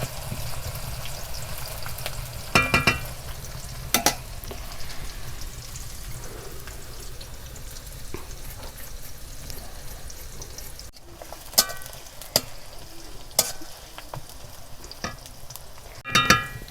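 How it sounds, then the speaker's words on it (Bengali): Onions fry lightly in a kadai for chicken kosha, giving a continuous soft sizzle with occasional sharp clacks of a spatula stirring, close and alone. "পেঁয়াজগুলোকে আমি একটু হালকা ভেজে নেব,"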